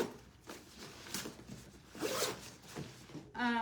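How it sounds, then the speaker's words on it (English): A bag zipper is pulled open in several quick raspy strokes, close and clear, with a brief tonal clatter at the end. "Let me zip this one and I'll show you."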